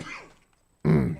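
A person coughs, a rough throaty burst with a grunting quality, close and loud, following a brief fading noise and a moment of silence.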